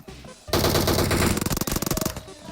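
Rapid bursts of automatic gunfire from the mobile battle-royale game PUBG Mobile, loud and close, a dense continuous volley breaking into quick stuttering shots toward the end.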